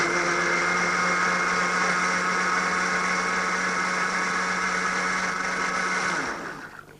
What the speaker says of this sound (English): And then you'll need to blend these ingredients again.